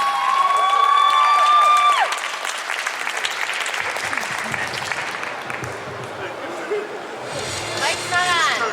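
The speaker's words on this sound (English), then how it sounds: "let's give a big round of applause for the one, the only, Michael" Loud applause and cheering from a convention panel audience welcoming Michael Berryman, sustained for several seconds, with a brief tonal whistle early on, crowd chatter and claps continuing, and a swell of cheers near the end.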